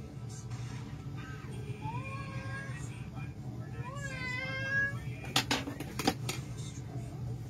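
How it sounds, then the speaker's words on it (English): A large, elderly pet cat meows several times in a row, drawn-out rising and falling cries, close and fairly clear, followed by a few clattering knocks. "Here, Charlie, he does that meowing all during the night"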